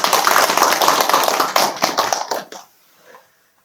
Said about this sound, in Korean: 그래서 박수 보내고 싶습니다